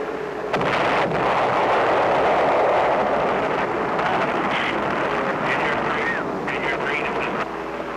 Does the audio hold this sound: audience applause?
no